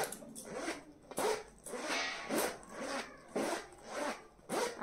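A stiff zipper on a bag pouch that has sat closed for a long time, dragged open and shut in repeated rasping strokes, about six pulls in under five seconds, close and fairly loud with no talking.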